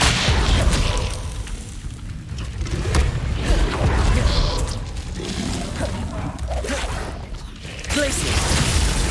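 A Confringo fire spell cast in the game Hogwarts Legacy, a loud burst with whooshing fire and booming impacts over a rumbling, mechanical-sounding battle backdrop that swells again near the end.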